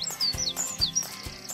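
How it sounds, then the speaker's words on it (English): Spring bird song from robins and blackbirds in the countryside, a run of bright, rapid chirps and tweets repeating several times in quick succession, close and clear with no voices. "Spring, of course, is all about bird song, and our feathered alarm clocks are in full throttle as they defend territories and attract a mate."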